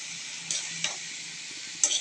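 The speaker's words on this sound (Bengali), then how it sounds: "পরিমাণ মতো লবণ দিয়ে আবার একটু নাড়াচাড়া করতে হবে" Vegetables seasoned with salt are stirred in a frying pan: a few brief scraping taps over a soft, faint sizzle, with no talking.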